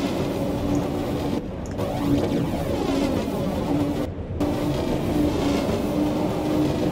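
A 1938 Stock tube train runs on the Bakerloo line in a train simulator, giving a steady loud rumble with rhythmic wheel clatter and two brief dropouts in the sound, with no speech.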